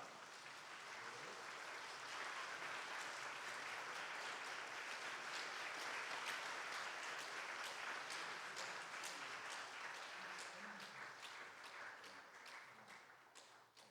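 Church congregation applauding during a Sunday service scholarship presentation, a steady dense wash of clapping sustained throughout and tapering slightly at the end, with no talk over it.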